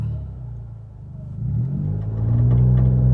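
A stock car with a single-tip exhaust and a refresh tune accelerates in S gear; its engine gives a loud, close, deep rumble that swells and climbs steadily in pitch as it revs, with no voices.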